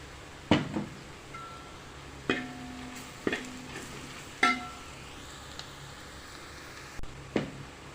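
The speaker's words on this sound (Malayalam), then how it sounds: "നമ്മൾ സവോള പേസ്റ്റ് നമ്മളിതിൽ ആഡ് ചെയ്ത ശേഷം നന്നായിട്ടൊന്ന് ഇളക്കിയിട്ട്" Onion paste fries in coconut oil for a chicken roast, heard as a faint background sizzle broken by several distinct scrapes and knocks of a spoon stirring in the pan, spaced a second or two apart.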